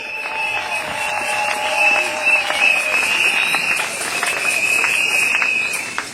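A congregation claps in church at a Sunday school golden jubilee celebration, a sustained round of applause with scattered sharp claps over a steady tonal hum, some voices mixed faintly underneath.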